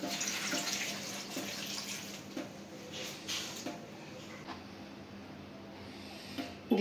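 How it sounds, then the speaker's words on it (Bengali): Water pours steadily into a pan holding bottle gourd, raw onion and green chillies, a continuous close splashing with no talk. "দিয়ে দিব পরিমাণ মতো পানি"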